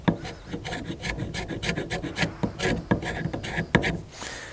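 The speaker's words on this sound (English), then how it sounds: "Take your knife or your striker, whatever you're going to use, and just scrape. I'm going to just scrape down this." A knife or fire steel striker scrapes down a piece of fatwood into shavings, producing a quick series of close, raspy strokes in an uneven rhythm.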